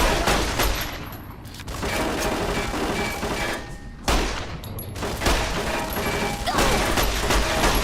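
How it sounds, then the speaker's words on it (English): Turrets in Fallout New Vegas pour out sustained rapid gunfire with mechanical clatter, loud and continuous over several seconds, with a sharp impact crash midway and the firing resuming right after. "God, these turrets hit hard."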